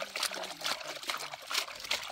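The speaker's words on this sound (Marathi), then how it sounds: "तर आपण चिकन वगैरे धुवून घेतलं आता" Raw chicken being washed in water in a home kitchen, with continuous trickling and splashing, close and moderately loud, and short sloshing bursts.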